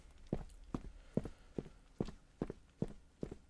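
Heavy metallic animatronic footsteps in the Fazbear Factory horror game, eight evenly spaced thudding steps at a steady walking pace, fairly close and alone with no talk.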